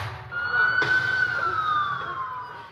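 A police-style siren wails over a street scene during violence in Puerto Vallarta, Mexico, heard at moderate distance with one long rising and falling tone lasting under three seconds.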